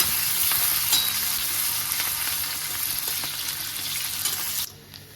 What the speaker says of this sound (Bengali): এখানে আমি পেঁয়াজটা ভেজে নিয়েছি